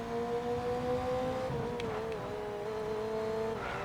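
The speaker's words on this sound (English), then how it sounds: "They're not terrible, but the sounds definitely are not as good as the actual F1 cars." Formula 1 car engine from the racing video game EA Sports F1 22, a steady high-pitched engine whine with layered harmonics that dips slightly mid-clip and continues at a constant level, with no talking.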